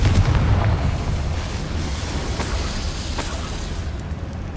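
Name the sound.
Confringo spell explosion from the video game Hogwarts Legacy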